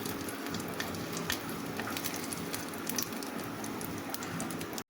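Cumin seeds frying in hot oil for a potato dish give a continuous, fairly quiet crackle and sizzle with scattered sharp pops, heard alone close by before cutting off at the end.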